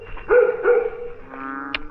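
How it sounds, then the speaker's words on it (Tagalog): A dog gives a couple of drawn-out, howling barks close by, followed by a softer whining tone and a short yip at the end. "Aso."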